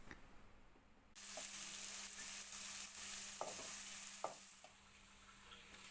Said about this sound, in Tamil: இப்போ எண்ணெய் காஞ்சதும் கட் பண்ணி வச்சுருக்க வெங்காயத்தை சேர்த்து நல்லா வதக்கிக்கிடலாம்